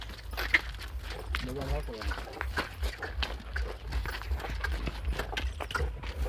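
Horse hooves clip-clopping during a visit to a horse stable, a quick uneven patter of steps heard beneath people talking throughout.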